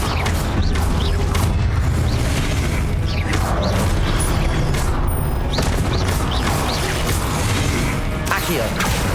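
Repeated Confringo spell blasts in Hogwarts Legacy burst in rapid succession, each a loud booming crack with whooshing trails layered over a dense, continuous roar of combat effects.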